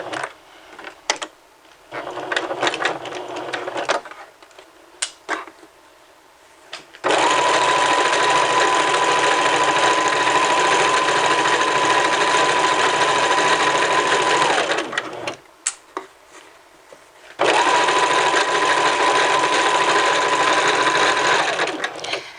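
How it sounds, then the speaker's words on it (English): A sewing machine fitted with a walking foot stitches a long garment seam from hem to neckline, humming steadily in two sustained runs after some lighter handling noises, close and clear. "we're going to go ahead and just sew in that seam from bottom all the way to the neckline"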